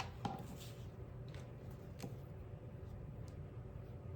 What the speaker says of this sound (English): And then we're going to just cut it up, slice it up a little bit